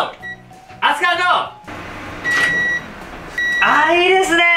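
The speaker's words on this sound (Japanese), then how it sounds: "電子レンジでね、50秒でできますよ" A microwave oven heats about 100 cc of sake: a steady hum runs under the sound, and bright electronic beeps ring out at the start and end. A voice can be heard as well.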